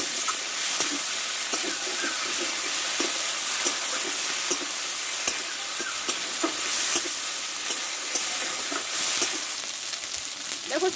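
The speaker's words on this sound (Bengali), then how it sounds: "এবার একটু টমেটো কেটে নিয়েছি দিয়ে দেবো টমেটোটা একটু ভেজে নিয়ে ভালো করে" Chopped tomato frying in spice paste for a Bengali fish and potato curry, a dense continuous sizzle with frequent spatula scrapes and taps against the pan, heard close.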